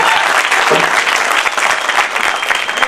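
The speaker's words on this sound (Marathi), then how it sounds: "जोरदार टाळ्या. पण तुम्हाला न सांगताच तुम्ही टाळ्या वाजवल्या," Loud, sustained audience applause at a rural folk-art cultural program in Solapur, dense continuous clapping from a large crowd filling the whole stretch at an even level.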